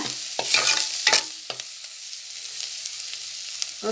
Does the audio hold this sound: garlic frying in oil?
yes